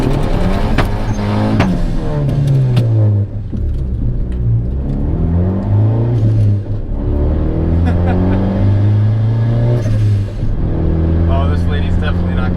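A turbocharged Honda Accord revs hard for a burnout attempt, its engine note climbing and falling in repeated loud sweeps close by, with a voice heard over it.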